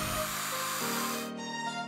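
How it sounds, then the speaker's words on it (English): A power drill fitted with a 1/4 inch bit bores holes into a wall while mounting a bracket, a loud steady whine that shifts pitch partway through, then settles lower and fainter near the end. "Drill the 3 holes using a 1/4 inch drill bit."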